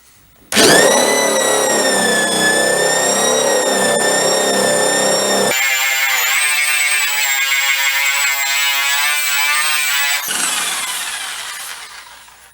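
An Eastwood Contour SCT or Porter Cable Restorer stripping a panel down to bare metal: a loud, close, high-pitched motor whine that shifts to a different pitch under load midway, then winds down at the end.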